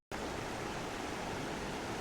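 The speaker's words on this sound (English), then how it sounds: "This is the South Platte River." The South Platte River on the Colorado Trail rushes past in a steady, dense broadband wash, a close and continuous roar of moving water with no voices over it.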